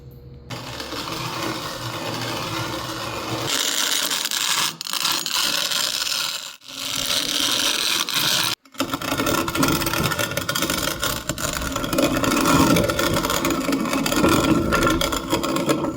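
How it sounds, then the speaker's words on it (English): A hand-cranked manual coffee grinder crushes coffee beans in a kitchen in Brazil, producing a steady, close, gritty crunching and rasping that runs almost unbroken for the whole stretch, with only a few brief pauses and no voices. "when you grind the coffee, it goes inside"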